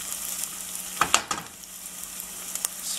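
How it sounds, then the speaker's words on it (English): Chilies frying in a pan for paya soup: a steady low sizzle with a few crisp pops and spatters, close and quiet, plus a stirring clink or two. "fry them a bit"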